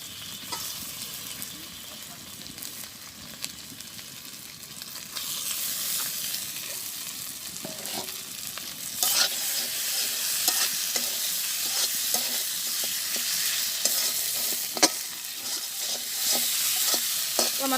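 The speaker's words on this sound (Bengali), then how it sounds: "আমার মশলা কষানো হয়ে গেছে" Spiced masala with tomato frying and being stirred in a pan, a steady sizzle that grows louder partway through, punctuated by repeated scraping strokes of the spoon.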